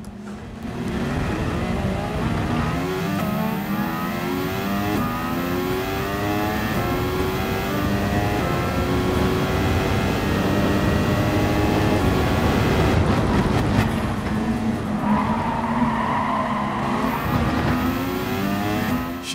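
A Mercedes-AMG F1 2017 engine screams around the Red Bull Ring in Gran Turismo Sport, its loud, high-revving whine climbing and dropping with each rapid gear shift, continuous and close.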